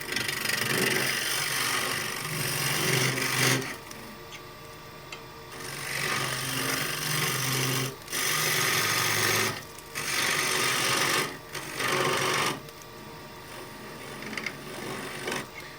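A scraper tool cuts the inside of a wooden bowl spinning on a lathe. It makes a buzzing, rasping drone in repeated bursts of a second or two, separated by quieter pauses. The sound is near, with no talking.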